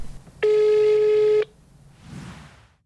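Telephone call tone, a steady loud beep lasting about a second, followed by quieter faint line noise.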